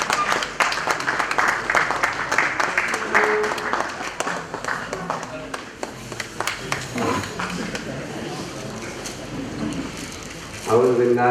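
Audience applause at a literary book-launch ceremony at Tea House Multan, a steady dense wash of clapping running through the clip, briefly swelling louder at the end.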